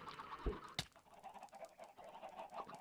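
Chickens in Minecraft clucking faintly, a few short clucks and squawks with one sharp click, quiet and alone without any talk.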